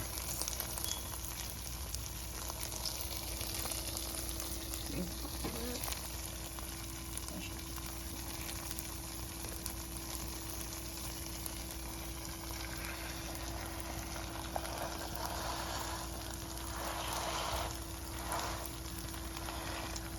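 Food with cheese on the bottom cooking in a pan, giving a steady, quiet, continuous sizzle and frying hiss with a few faint clinks, close by and without talking.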